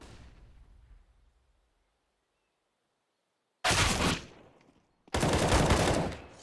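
Two loud bursts of automatic gunfire from the video game CS:GO on the Inferno map, coming after a quiet stretch: one short rattling volley, a brief pause, then a longer, sustained spray.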